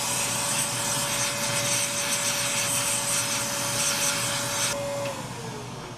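A vacuum cleaner sucks sanding dust off a turned mesquite wood piece, a steady close whine with a sustained tone that shifts and drops near the end as the nozzle moves.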